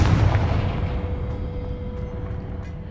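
A Confringo fire spell blasts in the video game Hogwarts Legacy, a heavy booming burst at the start that rolls into a sustained low rumble with faint crackles over about three seconds.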